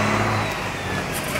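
Turbocharged car engine revving up, a loud, steady mid-pitched roar with a faint high turbo whine on top, close by and heard alone without talk.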